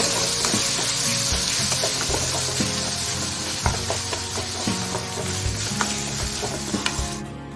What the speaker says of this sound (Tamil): இப்போ இந்த ஸ்டேட்டில் கட் பண்ணி வச்சுருக்க தக்காளி ஆட் பண்ணிக்கலாம்